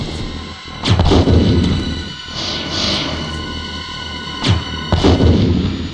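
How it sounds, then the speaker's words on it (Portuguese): Spider creature exploding in Resident Evil Director's Cut, heard as loud booming blasts, one near the start and another pair near the end, over a steady game soundscape. "A aranha explodiu!"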